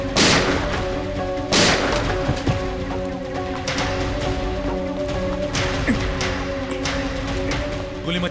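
Gunshots ring out in a tense crime-drama standoff, with two loud sharp blasts near the start followed by scattered thuds and booms over a dense backdrop of tonal music and noise.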